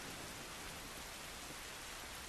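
Steady, soft rain hissing evenly in the video game The Last of Us, with no other sounds standing out.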